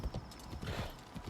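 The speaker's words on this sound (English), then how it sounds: "I do love the improvement of the walking speed on the horse in the town" Horse hooves clip-clopping at a walk through a town in the video game Assassin's Creed Shadows, a steady rhythm of soft, close thuds with faint ambient town noise behind.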